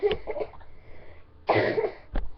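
A few short coughs close to the mic, a cluster at the start, then a louder harsh cough and one final abrupt one.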